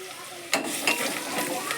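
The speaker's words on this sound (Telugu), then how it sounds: "పచ్చివాసన పోయేంత వరకు ఆయిల్లో మంచిగా ఫ్రై చేసుకుందాం." Turmeric and ginger garlic paste frying in oil for a potato kurma, a soft, steady sizzle with a few sharp scraping stirs of a spoon against the pan.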